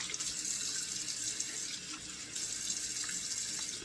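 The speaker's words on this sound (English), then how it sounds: "So let me rinse this off now." A bathroom tap runs steadily into the sink to rinse after a shave with TOBS Mr. Taylor shave soap, a close, continuous hiss of water with small splashes of hands rinsing.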